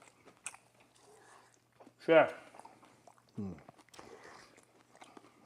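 Crisp bites and crunching from someone eating homemade pizza, a couple of loud close crunches with quieter chewing between, set among brief spoken remarks.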